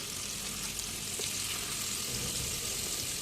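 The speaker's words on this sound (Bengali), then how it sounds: "হলুদ, মরিচ, লবণ একটু দিয়ে মেখে গরম তেলে এটা ভালো করে ভেজে নিব দুই সাইড" Hilsa fish coated with turmeric, chili and salt frying in hot oil, giving a steady, dense sizzle and crackle that holds at an even level from start to finish, with no voices.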